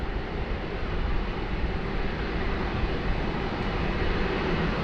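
An Air China A330-300 airliner taxis at Sydney Airport in heavy rain, a steady broadband roar of distant jet engines blended with rain, constant and unbroken throughout.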